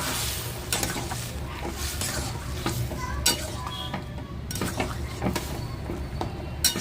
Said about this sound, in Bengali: সিদ্ধ করা মটরগুলো ঢেলে দেওয়া হলো।